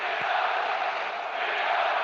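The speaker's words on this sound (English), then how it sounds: "The stadium is full of noise and energy." Stadium crowd noise in the eFootball PES video game, a dense, steady roar of a full stadium crowd, constant and moderately loud throughout with no distinct voices.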